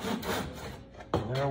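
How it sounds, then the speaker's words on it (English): A small Japanese pull saw cuts through a wooden canoe gunwale strip in short, close rasping strokes, with a sharper stroke just past one second. "I just got this little Japanese pull saw."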